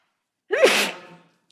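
One sharp, close sneeze breaks the quiet of a courtroom during an appellate court session, rising fast and trailing off within about half a second, with silence before and after.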